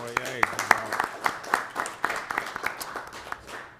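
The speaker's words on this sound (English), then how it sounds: "So if we could all give them a round of applause too." Audience claps a round of applause for fire explorer advisors at a fire protection district meeting, a scattered burst of hand claps close by, mixed with voices talking and cheering.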